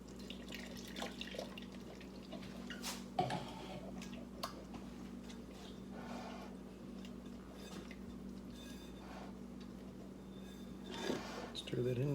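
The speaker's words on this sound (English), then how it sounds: "And to that, we're gonna add our water." Water is poured into a sourdough starter for French boule bread, a faint trickle with light ticks and clinks in a quiet kitchen, and a voice speaks softly nearby.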